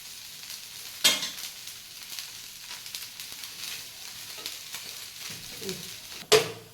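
A dosa frying in ghee in a pan, giving a soft continuous sizzle close by, broken by two sharp scrapes of a spatula and a brief clatter near the end.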